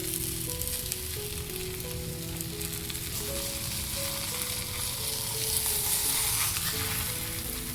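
Ragi roti fries in oil on a hot griddle, a continuous close sizzle and crackle with a gentle steady texture, no voices, while faint background music plays.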